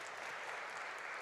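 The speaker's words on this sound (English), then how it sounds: "So big applause for everyone." An audience at an international literacy conference in Warsaw applauds with steady, dense clapping, faint and distant, with no voices over it.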